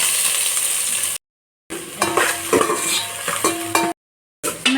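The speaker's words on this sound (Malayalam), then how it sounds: "ഇതിലേക്ക് നമുക്ക് സവാള ഇടാം." Sliced onion goes into hot ghee with cinnamon, cloves and cardamom for ghee rice, giving a close, bright sizzle with scraping stir strokes, broken by two short silent gaps.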